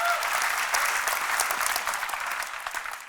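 Audience applause from a crowd, a dense steady patter of many hands clapping that gradually fades over a few seconds.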